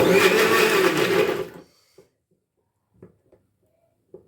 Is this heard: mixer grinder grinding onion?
yes